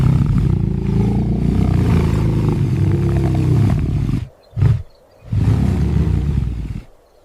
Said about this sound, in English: The roar of a male lion can be heard from nearly 5 miles away